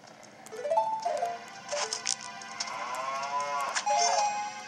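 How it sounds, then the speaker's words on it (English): Cow mooing in The Legend of Zelda: Ocarina of Time 3D Master Quest, a few drawn-out tonal moos rising and falling over game music and chimes, moderately loud and close. "I'm gonna hit your annoying mooing!"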